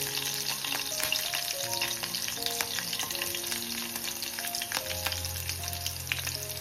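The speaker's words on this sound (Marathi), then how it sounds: "मिरची सुद्धा टाकून घेऊ. परतून घेऊ थोडा." Green chilies and crushed garlic sauté in a pan, giving a constant crackling sizzle at moderate, quiet level with light stirring scrapes and a low hum underneath, no voices.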